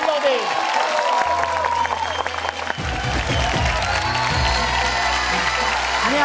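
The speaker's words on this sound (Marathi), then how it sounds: "एकदा जोरदार टाळ्या होऊन जाऊ दे." A studio audience at a Marathi TV show's Dahi Handi game event claps and cheers loudly and continuously, with whoops rising through the crowd and a presenter talking over it.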